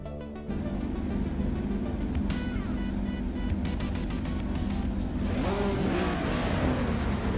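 A classic 1975 Ferrari 312 race car at Atlanta in a racing video game, engine roaring continuously and up close, revving and accelerating with a brief drop at the start, then a rising, harsher howl near the end.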